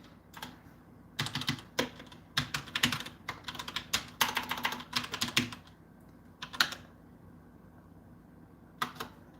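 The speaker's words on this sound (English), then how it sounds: "let me just type this in" Clicky keys on a computer keyboard tapped close by in quick irregular bursts with short pauses, over a quiet room hum.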